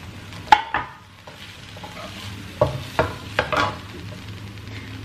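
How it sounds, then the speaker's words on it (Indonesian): Boiled spaghetti goes into a hot pan with a sizzle and is then stirred, giving several sharp scraping and clattering knocks of a utensil against the pan over a low, steady frying hiss. "Kemudian saya nak masukkan spaghetti yang telah direbus"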